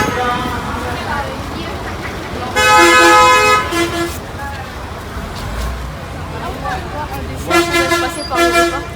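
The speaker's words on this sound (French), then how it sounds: "Ça klaxonne de partout ici, hein." Car and bus horns honk repeatedly in busy Tamil Nadu street traffic, sharp bursts near the start, middle and end rising over a hum of engines and crowd chatter, with people talking nearby.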